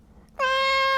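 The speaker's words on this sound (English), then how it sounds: "Oh, here's my cat Stella, and her job is to sit and purr, but she's late for work" A pet cat lets out one sustained, clear meow, close and fairly loud, rising out of quiet room tone.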